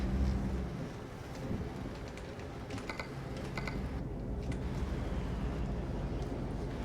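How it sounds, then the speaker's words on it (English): Rain and rolling thunder in the truck-driving game Euro Truck Simulator 2 make a steady low rumble and hiss, overlaid by close, rapid clicking of computer keyboard keys. "It's just been raining the whole time."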